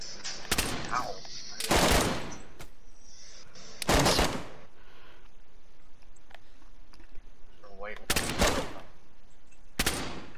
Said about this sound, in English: No, they're shooting at me.